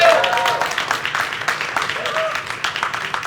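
An audience applauds at a Xiaomi product launch event in Barcelona, scattered clapping filling the hall at moderate volume and tapering off, with a voice speaking over it.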